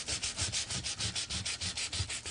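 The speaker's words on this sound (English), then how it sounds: "Take my 220 sanding paper and just clean it up a little bit." A guitar fret slot is worked with 220-grit sandpaper in quick, even back-and-forth strokes, about a dozen scratchy rubs in a steady rhythm, close up with no talking.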